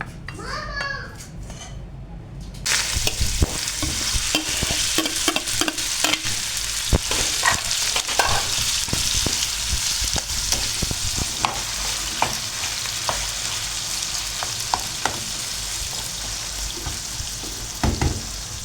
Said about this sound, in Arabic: راني درت لها الملح ونقلي فيه